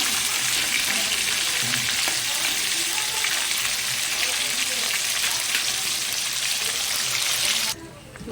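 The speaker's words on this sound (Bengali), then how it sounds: "মাছের মাথাগুলো এইভাবে ভেজে নিচ্ছি, একটু ভালোভাবে ভেজে নিতে হবে।" Fish heads frying in hot oil in a wok, a loud dense continuous sizzle up close that drops off abruptly near the end.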